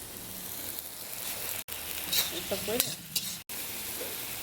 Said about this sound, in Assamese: এনেদৰে মাজে মাজে শাকখিনি নোহোৱালৈকে অলপমান লৰাই থাকিব লাগিব।